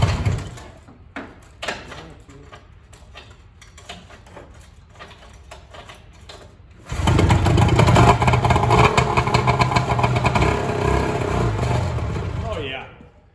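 Vintage barn-find snowmobile engine: after several seconds of tapping and handling noise, the engine catches and runs loudly with a steady, buzzing two-stroke drone, close up, then cuts off near the end; people talk over it.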